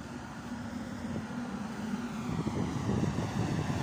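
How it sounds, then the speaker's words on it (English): A low-flying airplane passes near Heathrow, a steady broad roar that builds slightly in loudness toward the end, heard outdoors without talk. "Look how close some planes are, guys."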